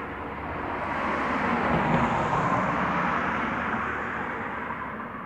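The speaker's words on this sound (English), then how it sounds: "Big military helicopters flying around." Large military helicopters fly overhead outdoors, a broad, steady engine roar that swells to a peak and slowly fades, fairly loud and heard alone.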